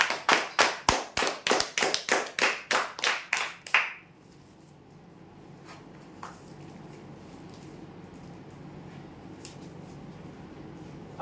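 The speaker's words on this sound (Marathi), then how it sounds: "जोरदार टाळ्या बजावण्यासाठी." Loud, close hand clapping for prize winners at a weekly customer lucky draw, a run of about a dozen sharp, evenly spaced claps lasting a few seconds before fading into quiet room noise.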